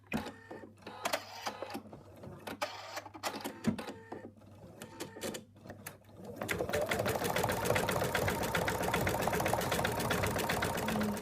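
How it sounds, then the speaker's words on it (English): An in-the-hoop embroidery machine stitches the ear of a stuffed elephant: a few sparse needle strokes at first, then a steady, loud, rapid mechanical chatter of continuous stitching that runs to the end. "I'm just bringing the needle down again for the first stitch on that color"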